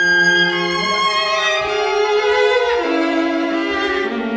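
Excerpt of Bartók's String Quartet No. 3, sustained string chords with sliding, shifting pitches played by a quartet, rich and close, with no talking over the music.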